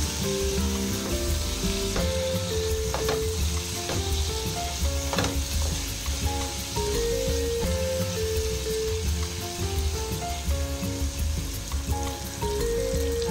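Ground cumin and turmeric fry in a pan for a spicy Bengali Bombay duck dish, giving a loud, continuous close sizzle with stirring scrapes throughout and no voices.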